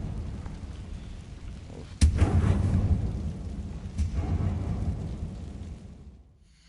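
A Confringo blasting spell goes off in Hogwarts Legacy inside a closed tomb, one sudden loud boom that rolls on into a long rumbling tail with a second, smaller burst, then fades out.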